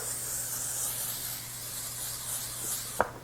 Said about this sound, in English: We're going to spray it with some nonstick cooking spray.